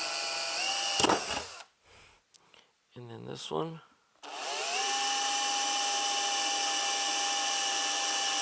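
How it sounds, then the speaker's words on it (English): A power drill bores a pilot hole with a 5/32 or 5/64 bit into a metal chassis for an all-tube phono preamp, whining steadily and loudly after a short start, stop and some handling noise, with a brief spoken remark early on. "And we're first drilling a pilot hole."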